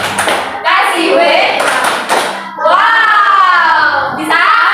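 Voices chant together in rhythm, punctuated by sharp hand claps that land on the beat between the chanted phrases.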